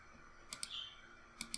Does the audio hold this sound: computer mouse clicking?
yes